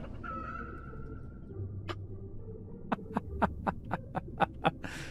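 A chicken is attacked in the video game RuneScape 3: a brief fowl call and low hum, followed by a quick, rhythmic series of sharp, close hit sounds near the end.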